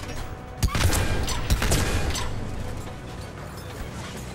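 Saber rifle shots from Mass Effect 3 ring out, two loud, heavy single cracks about a second apart with a booming tail, set against a steady background of combat noise and no talking.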